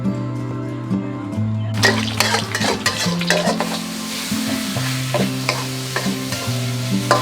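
In a restaurant kitchen, dry basil (kaprao) is stir-fried with loud, quick scraping and clattering from a spatula against the pan over a steady sizzle. A background melody plays throughout, and the tossing comes in busy bursts.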